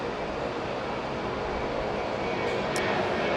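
A large international airliner lands at Sydney Airport, a loud, broad jet roar that holds steady throughout from a moderate distance.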